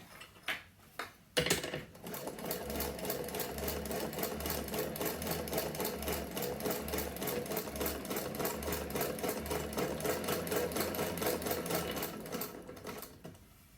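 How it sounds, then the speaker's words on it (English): Sewing machine back stitching a fabric bowl cover on thin fabric: a few clicks, then a steady close mechanical whir with rapid needle chatter that slows and stops near the end. "Let's just do some back stitch."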